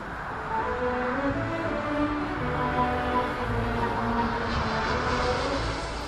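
A British Airways airliner descends to land at Heathrow, its engines giving a continuous loud roar with a low droning hum and shifting tones, with no voices over it.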